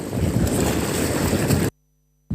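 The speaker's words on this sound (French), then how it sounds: "Il y a beaucoup de vent, hein. Le vent est permanent." Strong, steady wind roars and buffets the microphone on the shore of a salt pond, loud and continuous, then cuts to near silence before gusting back in at the end.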